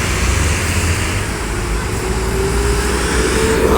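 Gumarang Jaya Skyliner bus passing on a toll road exit, a loud steady engine and road roar close by, with a faint rising whine near the end.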